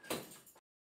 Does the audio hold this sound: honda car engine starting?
no